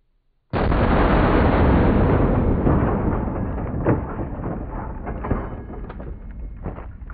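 A .500 S&W Magnum round fired into a ballistics gel block outdoors, one sudden, very loud blast after brief quiet, then a long rumbling decay with faint scattered pops.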